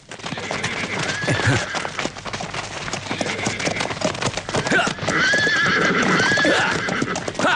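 Horses gallop with rapid clip-clop hoofbeats and give loud, shrill neighs, in a dubbed 1982 Shaolin Temple film scene, close and energetic, with voices speaking at times.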